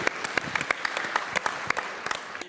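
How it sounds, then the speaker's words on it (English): An audience at a theatre alumni event claps together: a short burst of dense, crisp applause with sharp individual claps, moderately loud and close. "I want to clap again."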